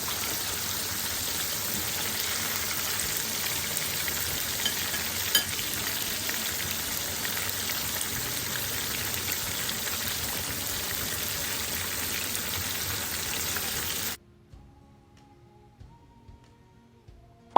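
Salt and pepper chicken wings deep-frying in oil make a loud, steady, dense sizzle for about fourteen seconds, then it cuts to near quiet with faint tones.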